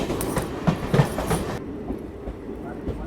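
Vibhuti Express train rolling across the old rail-cum-road Malviya bridge, about 150 years old, heard from onboard as a steady rumble with rhythmic wheel clatter, loudest at first and then quieter and duller.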